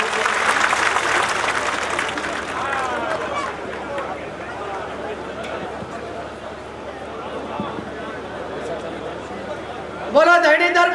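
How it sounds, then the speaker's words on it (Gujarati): A large outdoor crowd at a public political rally in Vav applauds with sustained, dense clapping and some babble, ending in a louder burst of cheering or chanting. "એકવાર જોરદાર તાળીના ગગડાટથી આપણે બેનને વધાવી લઈશું."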